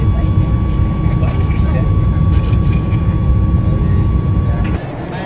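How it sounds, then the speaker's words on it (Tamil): Inside a passenger jet cruising on a Bangalore to Delhi flight, a loud, steady broadband cabin roar carries a faint constant hum and eases slightly just before the end. "இப்போ ஃப்ளைட்டு ஸ்மூத்தாக போயிட்டுருக்கு"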